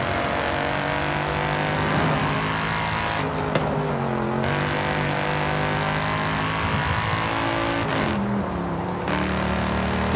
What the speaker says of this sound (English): The engine's distinctive feature is its intoxicating exhaust note, which provides an auditory delight for enthusiasts.